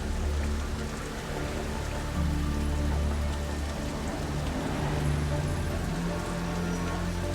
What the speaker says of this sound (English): Strong winds and heavy rain thrash the city in the warm tropical air.